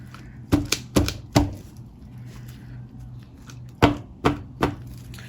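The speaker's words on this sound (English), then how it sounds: "Just tap your little container as well, that can help a little bit." Sharp hard taps on a small resin container, knocked to release bubbles, come in two clusters of three quick knocks with a pause between, close and crisp over a faint low hum.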